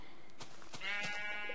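Sheep in the Minecraft video game bleat twice in short, wavering calls, fairly close and clear, with no talk over them.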